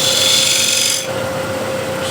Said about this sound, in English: So spindle gouge and just make a little chamfer here